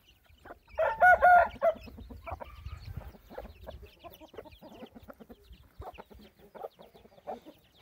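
A rooster crows loudly nearby, followed by hens clucking and softer fowl calls scattered through the rest, from gold-colored Indian gamefowl kept in pens.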